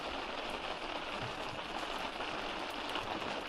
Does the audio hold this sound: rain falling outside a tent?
yes